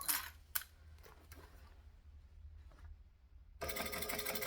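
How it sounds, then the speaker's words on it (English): A sewing machine stitches a pocket closed, its quiet running hum broken by a few small clicks before the motor speeds up into a steady, louder whir near the end, with no voices. "we're stitching that pocket closed right now"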